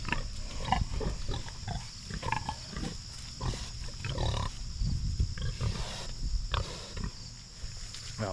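Farm pigs grunting and squealing in a muddy pen after heavy rain, a steady mix of overlapping animal calls at moderate distance with background noise throughout.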